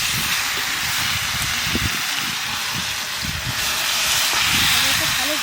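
Mutton hits hot oil with whole cumin, bay leaf, black pepper, cloves, black and green cardamom and cinnamon, giving a loud, steady hiss of sizzling close by while a voice talks underneath.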